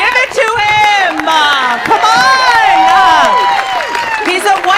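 A stand-up comedy audience erupts in loud cheering, with whoops and shouted voices rising and falling over scattered clapping, close and energetic across the whole stretch.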